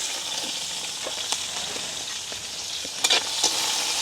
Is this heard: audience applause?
no